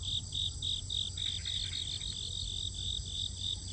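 Crickets chirp in a steady rhythmic trill over a quiet background, fairly close and continuous, with no voices heard.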